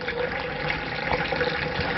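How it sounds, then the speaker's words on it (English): Water is foot-pumped through a carbon filter system, making a steady, continuous rush and gush of flowing water that stays fairly loud and even throughout, with no voices. "step on this unit to pump water through this filter system"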